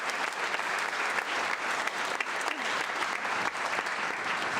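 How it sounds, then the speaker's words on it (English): Audience applause at a spring school concert, a dense, steady wash of clapping from a large crowd that holds evenly from start to finish with no talk over it. "So please give her a round of applause"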